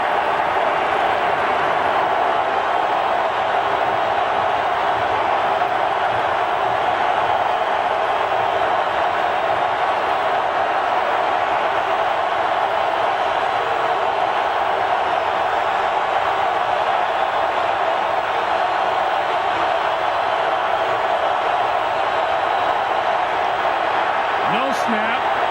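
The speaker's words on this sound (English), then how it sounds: "I'm not sure who coined the phrase when a crowd is at full throat, but this is a very good example of what you're about to hear right now" Football stadium crowd at an NFL playoff game, San Diego at Indianapolis, roaring at full throat in a loud, unbroken wall of noise that holds steady for the whole stretch.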